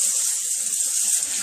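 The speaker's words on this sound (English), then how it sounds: "So first, you wash your face with some water." Steady running water from a tap with light splashing as a face is washed, close and continuous with faint rustling underneath.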